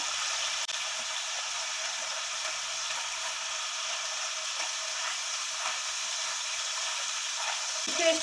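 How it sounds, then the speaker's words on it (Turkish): Charleston peppers fry gently in a pan, giving a steady, even sizzling hiss that runs unbroken throughout at a moderate level. "Charleston biberi böyle kızartıyorum hafiften"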